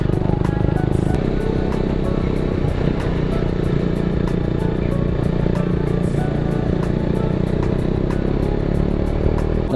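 Motorcycle riding along a mountain road in East Sikkim near Martam and Rumtek, its engine droning steadily and loudly throughout with continuous road rumble and rattling clatter.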